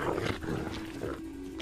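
Arctic wolves fighting between rival packs, with harsh snarls and growling roars in short bursts, close and moderately loud without any talking.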